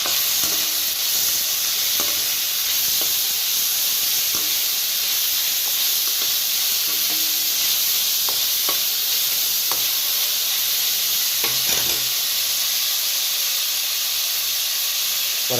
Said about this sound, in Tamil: உள்ளே போட்டு நல்லா வதக்கலாம். நல்லா வதங்கி வரட்டும்.